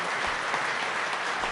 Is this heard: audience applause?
yes